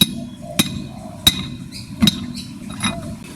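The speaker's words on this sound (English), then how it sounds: "I'll see if I can hammer it out." Sharp metallic hammer strikes ring out as a wheel bearing is driven out of a Citroën 2CV, three or four hard blows spaced under a second apart, close by with a faint mechanical background.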